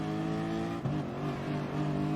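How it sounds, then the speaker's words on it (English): A race car at Interlagos holds a steady, loud engine drone that briefly stutters as it upshifts, the pitch dropping and then settling again, with no talk over it. "Every time it upshifts, it almost sounds like it's missing."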